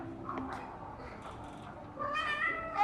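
A cat in a cat cafe gives a couple of short, close meows, the second one rising and louder near the end, over quiet room background.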